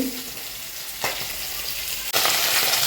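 Hot oil splutters and sizzles loudly in a pan while a fish curry is being started, a steady crackling hiss close by with a brief stir and a louder surge near the end.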